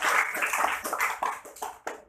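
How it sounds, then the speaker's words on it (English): Students in a classroom debate activity applaud themselves, a short burst of clapping from a small group that starts full and thins into a few scattered claps before fading out. "Give yourselves a round of applause."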